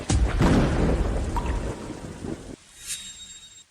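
Heavy rain pours with a deep rumble of thunder, loud and dense at first, then cutting off into a quieter patch with a faint high tone.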